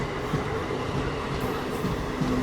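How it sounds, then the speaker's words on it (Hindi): An EMU local train passes on the main line, a continuous rumbling roll with a faint tonal hum and soft rhythmic clatter, steady and fairly close. "EMU ट्रेन लोकल, ये भी थी भाई मेन लाइन पे, इसको पास कराया जा रहा है।"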